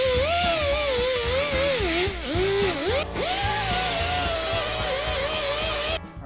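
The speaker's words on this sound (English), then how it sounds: "I put it on the die grinder" A die grinder fitted with a wire wheel works bare metal, a loud, continuous high whine whose pitch dips and recovers as the wheel is pressed against the surface, then winds down at the end.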